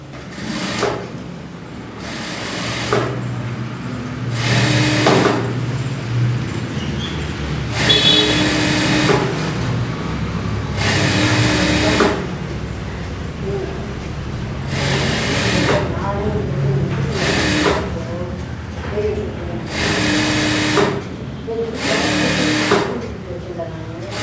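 A tailor's sewing machine stitches a blouse in repeated short bursts of whirring, separated by brief pauses, while a voice talks over the work throughout.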